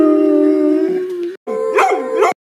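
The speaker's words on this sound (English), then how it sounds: "Okay, just dogs." Dogs howl in long, close, loud sustained wails, one drawn-out howl breaking off before a second wavering howl with rising and falling pitch.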